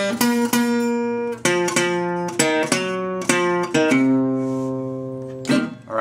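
Acoustic guitar notes plucked one after another in short repeated groups, ringing clearly with no voices, ending a blues solo phrase.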